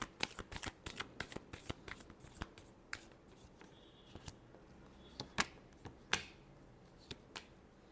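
A deck of tarot cards is shuffled close by in a rapid run of crisp riffling snaps and flutters, with brief pauses between bursts and no talking.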